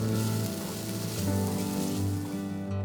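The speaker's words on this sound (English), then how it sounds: "the stir-frying continues for another 2 minutes to thicken the sauce" Steady, loud sizzling of sauce frying in a hot pan, continuous and close with no talking.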